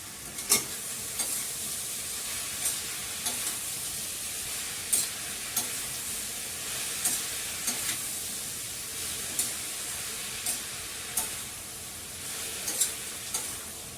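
Bottle gourd frying with green chillies and salt in a pan gives a soft continuous sizzle, broken by regular light scrapes and taps as it is stirred, with no talking.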